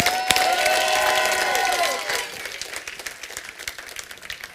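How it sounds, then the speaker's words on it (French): A church congregation claps and cheers loudly, with a sustained sung note ringing through the first half before the applause thins into scattered clapping and crowd murmur. "Est-ce qu'on peut acclamer comme il faut?"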